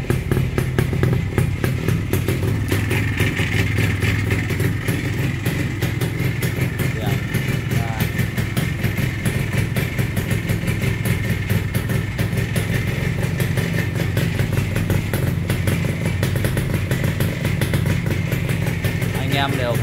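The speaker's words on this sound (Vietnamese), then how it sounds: "Nổ máy cho anh em xem." A green Minsk motorcycle engine idles at a steady, even clatter throughout, with a voice speaking over it.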